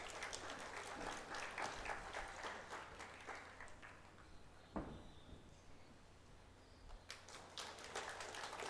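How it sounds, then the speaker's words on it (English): Faint applause from an audience at a school graduation and awards ceremony, a sustained patter of clapping that swells and fades over several seconds. "let's give a final round of applause to these students"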